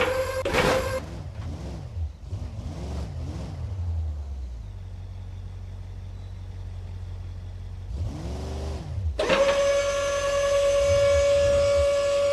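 Police siren in the BeamNG driving game, wailing in rising and falling sweeps alongside car engine revving, then a steady high tone near the end, fairly loud with no talk.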